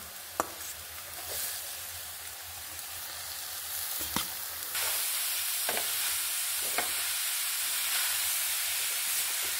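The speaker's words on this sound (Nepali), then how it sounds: "घिउ तातिसक्यो। अब मैले गाजर हाल्दैछु।" Grated carrot fries in hot ghee with a steady sizzle that swells louder midway, with occasional sharp clicks of a utensil, close and continuous.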